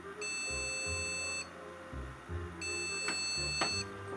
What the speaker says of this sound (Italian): la scheda madre ha iniziato a bippare nella fase di posto.